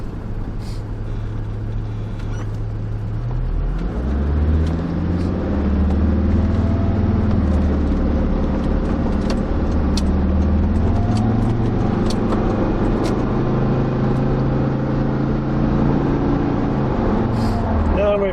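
A Land Rover Discovery 2 drives and brakes over a badly rough road, its engine rumbling low and steady with bumps and rattles throughout, heard close from inside the cabin.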